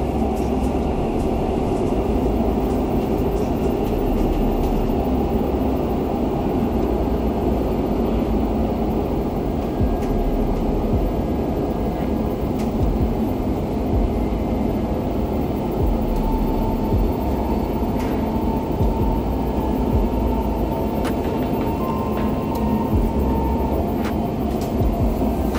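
A Dubai Metro Gold Class train runs between stations, heard from inside the carriage as a steady, loud rolling rumble with rail hum that continues unbroken throughout, with no talk.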